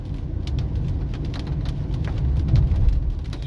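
Heavy rain drums steadily on a car while driving through Campinas streets, with constant low road and engine rumble beneath the wash of drops, slightly swelling toward the end; no talking.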